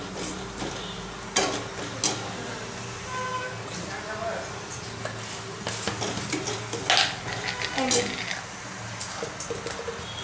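A spoon stirs a chilli powder mixture for prawn patties in a pan, giving intermittent scraping and clinking strokes with brief sizzle, close by.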